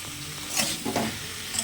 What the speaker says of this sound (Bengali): দিয়ে আমি এগুলোকে একটু ভালো করে কষিয়ে নেবো।